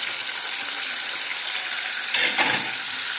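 Turmeric and tomatoes sizzle steadily in a hot frying pan as they are stirred, a continuous bright hiss with a brief louder scrape-and-sizzle burst near the end, no voices.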